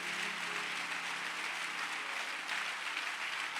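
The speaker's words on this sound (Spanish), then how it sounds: "aplauso a todo el equipo, por favor." A church conference congregation applauds the conference team with steady, even clapping that fills the space at a fairly quiet, distant level, with no voices standing out.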